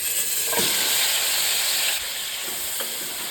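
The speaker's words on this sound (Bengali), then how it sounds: "ঘি আর তেলটা গরম হয়ে গেছে আমি এর মধ্যে একটা তেজপাতা দিয়ে দিয়েছি এরপর ম্যাগনেট করে রাখা চিকেনটা দিয়ে দেবো" Marinated chicken cooks in hot ghee and oil with a bay leaf, giving a continuous hissing sizzle, close and steady. A few soft knocks of stirring break through now and then.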